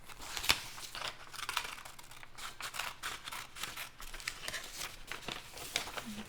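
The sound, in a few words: scissors cutting out paper vocab cards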